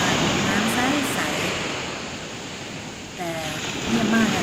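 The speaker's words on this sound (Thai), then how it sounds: "คลื่นทะเลซัดแรงมากน้ำใส" Sea waves crash hard on a shore in Turkey, a loud, continuous roar of surf that swells and eases, with faint voices briefly surfacing beneath it.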